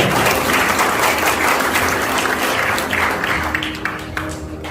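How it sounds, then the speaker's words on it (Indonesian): A crowd claps loudly and continuously, dense applause filling the room before thinning slightly toward the end. "Tepuk tangan buat Bapak Ibu."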